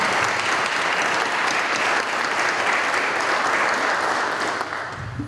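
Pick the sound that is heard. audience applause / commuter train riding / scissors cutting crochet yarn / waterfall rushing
audience applause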